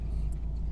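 Interior of a moving car: a steady low road rumble and engine drone fill the cabin, continuous and fairly loud throughout a brief stretch.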